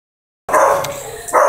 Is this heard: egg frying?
no